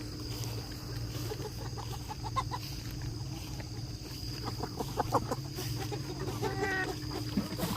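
Pioneer broiler meat chickens on a small free-range ranch cluck softly at bedtime, a flock's steady murmur of short clucks and chirps continuing close by over a constant low hum.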